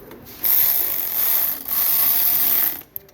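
A ratchet tightens exhaust manifold bolts on OBS up-pipes, giving a close, loud run of rapid clicking pawl strokes in two bursts with a brief pause between, ending in a single sharp click.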